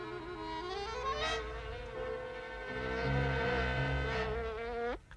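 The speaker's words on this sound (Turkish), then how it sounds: "Defol, defol dedim sana pis sinek." In a Smurfs cartoon, a housefly buzzes loudly and steadily close by, its whine rising and dipping as it flies, then cutting off sharply near the end.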